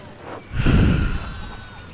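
A sheep in the video game Pentiment gives one short, breathy bleat up close, lasting about a second before fading into quiet background.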